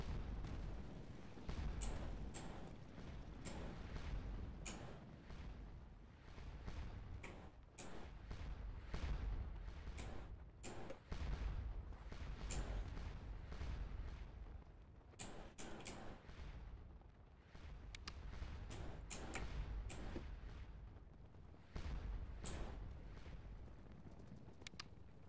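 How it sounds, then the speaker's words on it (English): Artillery fire in the Napoleonic battle game Scourge of War: Waterloo, set at the Battle of Ligny: repeated heavy cannon booms at irregular intervals over a constant rumbling battlefield din. "Already got artillery in position firing up here."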